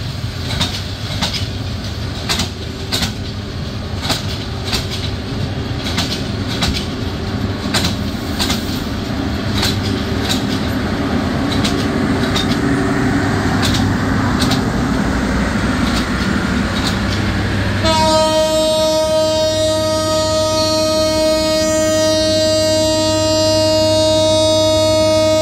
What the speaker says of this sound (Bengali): ট্রেনটি ছেড়ে যাচ্ছে তার প্রারম্ভিক রেলওয়ে স্টেশন সিলেট রেলওয়ে